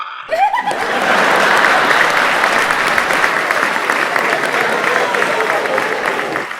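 An audience breaks into loud, sustained applause, dense clapping that swells quickly and keeps going for several seconds, with a few chuckles mixed in.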